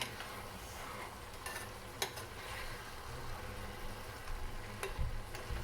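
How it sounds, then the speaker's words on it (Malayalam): Kerala aviyal vegetables are stirred gently in a pan, making a quiet, soft scraping and faint sizzle broken by a few sharp utensil clinks against the pan. "നിങ്ങൾ ഇളക്കുമ്പോൾ ചെറുതായിട്ട് അതൊന്നും പൊടിഞ്ഞു പോകാതെ പയ്യെ ഇളക്കി കൊടുക്കുക"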